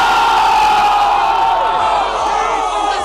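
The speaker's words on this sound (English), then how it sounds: "Can I get a ooh sound effect?" A dense crowd lets out a sustained, loud collective "ooh" as a sound effect, a broad wash of many voices holding steady before tapering slightly near the end.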